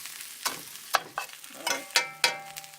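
Chopped bacon cooking in a skillet on the stove, a steady frying sizzle broken by several sharp scraping stirs of a utensil against the pan, heard up close with no voices.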